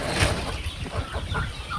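Sonali chickens cluck softly and intermittently over a low, rumbling background, with short bursts of low clucking spread across the moment.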